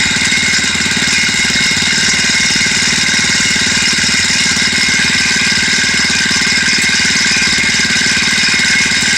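A motorcycle engine runs steadily and loudly nearby, visibly shaking in its mounts, a constant rumbling idle with a rattling, knocking texture throughout.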